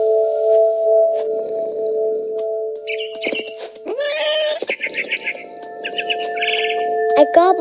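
Chirps and tweets from a bird inside the video game What Remains of Edith Finch, sounding over a steady low ambient drone, with several short bursts of calls clustered toward the end.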